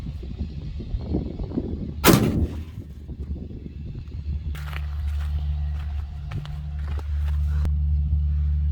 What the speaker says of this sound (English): This is my first shot